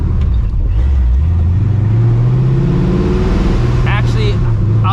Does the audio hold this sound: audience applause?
no